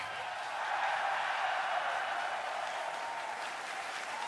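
Sustained applause and cheering from a large crowd at The International 2017 Dota 2 event, greeting the cosplay competition winner; a steady, dense roar of clapping that swells slightly and holds for several seconds.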